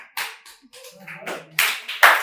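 A few scattered, half-hearted hand claps during a confidence-building and fluency practice session: sparse, uneven slaps at close range, one or two claps at a time, with brief soft vocal sounds between them.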